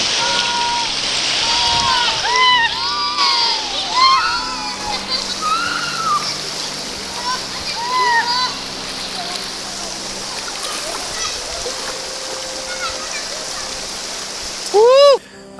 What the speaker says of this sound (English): Whitewater tubing.